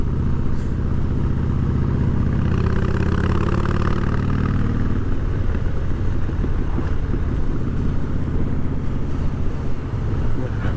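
A Harley-Davidson Fat Boy motorcycle engine runs loud and steady on the road with a deep rumble, mixed with heavy wind noise throughout.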